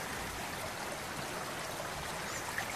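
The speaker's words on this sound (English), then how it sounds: "You can listen to the water running there." Water runs in a garden in Cali, Colombia, as a soft, continuous trickling stream, faint and steady, with no voices.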